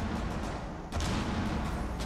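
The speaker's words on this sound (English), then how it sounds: "Nice use of impact grenades." Impact grenades go off in a Rainbow Six Siege team deathmatch hostage round on the Chalet map, a rough rumbling blast with sharp onsets and dense gunfire-like crackle, loud and continuous through the short span.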